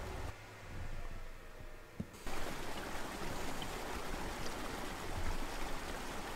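A flowing river in the video game MIND: Path to Thalamus rushes as a steady, full, close water stream. It follows a short, quieter muffled stretch and a sudden cut in.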